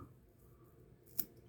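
Scissors snip once through deer belly hair spun on a fly-tying hook, a single crisp cut close by against a quiet room.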